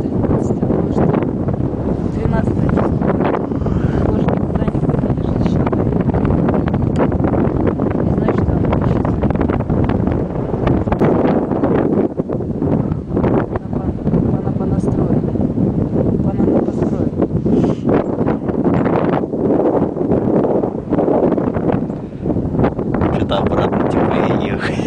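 Strong wind batters the microphone on a cable car ride in Gelendzhik, a loud, continuous roaring rumble with gusty surges throughout, nearly drowning out voices talking underneath.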